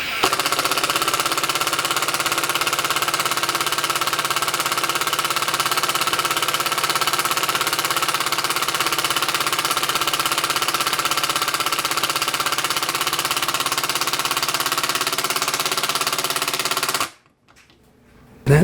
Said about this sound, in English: So this drill is a workhorse.